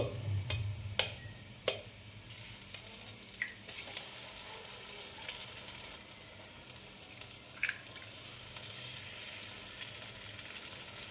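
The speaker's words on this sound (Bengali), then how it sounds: "দেখো এগুলো এখন আমি নেড়ে চেড়ে ভাজা ভাজা করে নিব" A low, steady sizzle of eggs frying in a pan with turmeric and salt, punctuated by a few sharp clicks and taps of a utensil.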